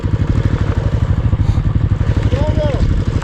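A motorbike engine straining and chugging on a steep uphill road during a snowy mountain trip, with a steady low rhythmic thrum that stays loud and close throughout.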